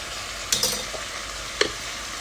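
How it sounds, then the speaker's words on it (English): Lamb chops fry in a pan with garlic and ginger, giving a steady close sizzle with a couple of brief scraping stirs of a utensil against the pan. "I added the garlic and ginger in, and I'm going to give it a good mix through"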